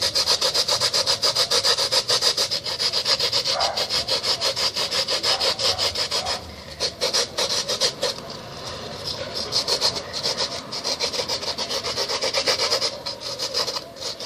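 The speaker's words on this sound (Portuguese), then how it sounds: "Tem que ser lixa grossa." Coarse sandpaper rubs steadily against a surface with close, loud, continuous rasping strokes in a fast back-and-forth rhythm, with one brief slowdown midway.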